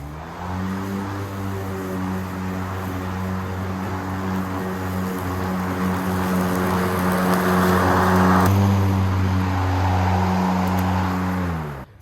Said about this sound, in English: I'm just going to use my lawnmower and cut in and try to follow this tire mark right here